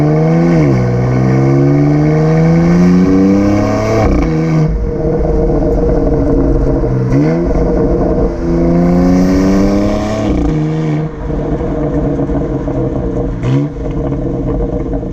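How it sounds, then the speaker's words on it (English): Exhaust of a 2020 BMW X3 M Competition while driving, rising through several revving pulls with sharp drops at each gear shift, loud and close, with pops and burbles between shifts. "just doing a few downshifts has a really good sound to it. You get a nice little pop on the upshift"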